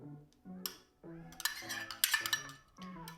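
A spoon scooping margarine out of a cup into a bowl with sugar, making a series of close clinks and scrapes against the dishes, with short tonal knocks and busier scraping in the middle.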